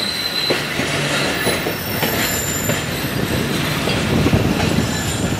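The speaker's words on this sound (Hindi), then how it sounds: "ट्रेन बीच में यहाँ स्टॉप कर रही है" Rehman Baba Express passenger train rolling over the rails between Tando Adam and Karachi, giving a loud, close, continuous rumble with rhythmic wheel clatter and thin squeals from the wheels on a curve.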